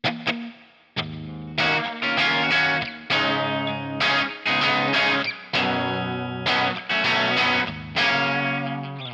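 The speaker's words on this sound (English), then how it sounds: "It's on Bassman and it sounds like this." An electric guitar plays through the clean preset on a NUX Amp Core using a Bassman amp model: bright, ringing strummed chords and picked notes in short phrases, close and clear, with no talking.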